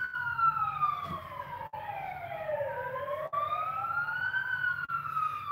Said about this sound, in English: Yeah, there were sirens.